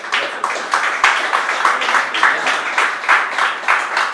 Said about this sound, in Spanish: yo voy a pedir un fuerte aplauso para ambos